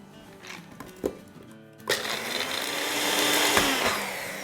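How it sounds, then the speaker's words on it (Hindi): Shredded coconut and almonds ground in an electric kitchen grinder: a few short taps and clicks, then the motor starts with a sharp burst and settles into a loud, steady whirring grind. "सबसे पहले इसको थोड़ा सा ग्राइंड कर लेंगे।"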